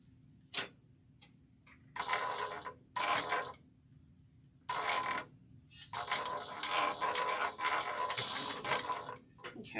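Sewing machine stitching back and forth while making a bag, several quick mechanical whirring bursts of rapid stitches separated by pauses, close and clear, with no voice.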